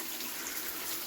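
Fresh water trickles steadily into a bottle, a brief, close, even hiss of running water with no voices.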